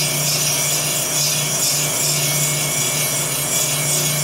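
Steady, close scraping and rubbing of a metal point tool being sharpened on a 180 grit stone, a continuous gritty rasp with no pauses and no talking.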